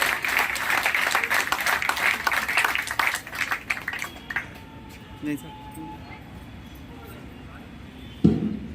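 Applause from spectators at a police passing out parade on the parade ground of the 2nd Battalion PAC in Sitapur, loud dense clapping for about four seconds that fades out, followed by quieter open-air ambience with a brief thump near the end.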